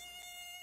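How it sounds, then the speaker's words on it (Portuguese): A dengue mosquito gives a thin, steady, high-pitched whine close by. The buzz is faint and lasts under a second, with no other sounds around it. "É o mosquito da dengue, viu, gente?"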